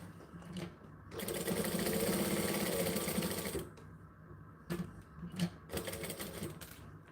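A sewing machine top-stitches fabric in two close, brisk bursts of rapid needle chatter, separated by a short pause with faint handling sounds.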